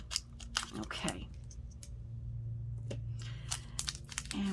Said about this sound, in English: So we're going to go ahead and just cut right there.